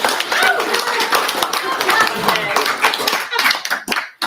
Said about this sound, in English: Please give a round of applause for Elizabeth Saltos.